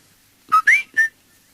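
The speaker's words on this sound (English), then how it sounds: "He whistled their special signal." A person whistles a short signal of three quick, clear notes, the middle one sliding upward, loud and close against near silence.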